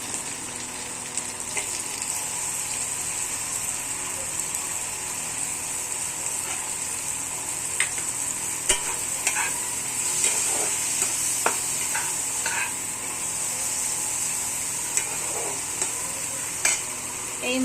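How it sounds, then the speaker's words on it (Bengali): Ground spices such as turmeric, chili powder and salt frying in a pan for a Bengali-style palak paneer masala, stirred steadily with soft scraping clicks over a continuous close sizzle, no talk. "দিয়ে ভালো করে একটু হালকা ভাজা ভাজা করে নেব"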